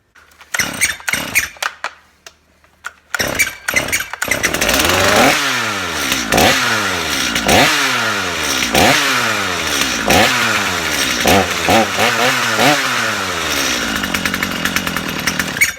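A Stihl MS250 chainsaw engine is pulled several times with sputtering bursts on half choke, then catches and roars steadily, revving up and down repeatedly, loud and close.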